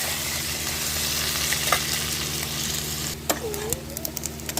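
Cut potatoes fry in hot oil with a steady loud sizzle, crackling throughout and a few sharper pops and scrapes near the end.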